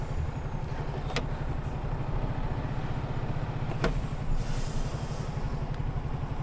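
A vehicle driving with a heavy load sitting on its rear axle, a steady low engine drone with rhythmic rumble and two sharp clunks, continuous for several seconds without speech.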